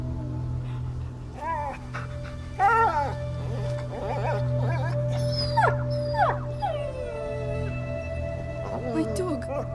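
A dog howls and whimpers in A Plague Tale: Innocence, with wavering mournful cries rising and falling over a steady low hum while a character speaks in distress.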